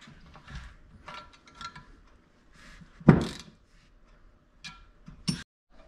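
Wrench working on control arm bolts during a suspension rebuild with urethane bushings and ball joints, heard as scattered metallic ratcheting clicks and clunks, with one louder knock near the middle and another toward the end.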